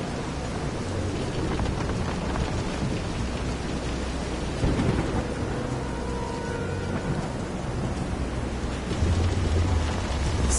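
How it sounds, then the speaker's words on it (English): Thunderstorm with heavy rain in the Visions of Mana video game, heard during a boat scene on rough water: steady loud rain hiss with low rumbling thunder swelling midway and again near the end. "This is some storm."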